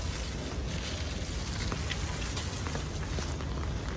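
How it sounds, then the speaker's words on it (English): Steady rain pours down at an animal resort in a Singapore kampong village, a dense, even hiss of drops hitting surfaces that stays constant and fairly loud throughout with no break. "It's raining."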